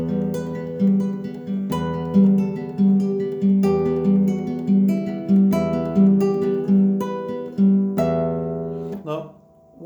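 A classical guitar plays the opening four bars of Romance: a steady rolling arpeggio with a repeating bass pattern under a slow, clear melody. The playing is close and solo and ends on a strummed chord that rings out.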